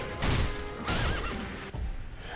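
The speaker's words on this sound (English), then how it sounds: "At this point you can use a Shinobi Firecracker." In the video game Sekiro, a Shinobi Firecracker goes off against a mounted boss during a fight, giving loud crackling bursts of noise in quick succession, with a horse's whinny mixed in.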